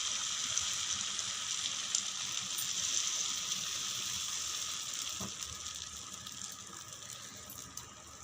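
Egg adai dosa batter sizzles on a hot pan, a steady close hiss of frying that runs on evenly, with a faint click partway through.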